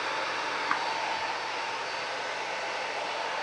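A Miele S5 canister vacuum cleaner running in a home during a wildfire smoke filtration test, a loud steady broadband whoosh and motor whine held evenly throughout, close and alone without talk.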